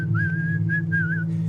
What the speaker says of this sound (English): I like that whistling in the background.